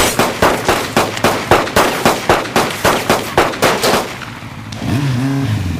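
Rapid, evenly spaced gunshots from a drive-by shooting on a street corner in Baltimore crime drama The Wire, about a dozen loud sharp cracks in a steady burst, then a car or engine rumble with a rising whine.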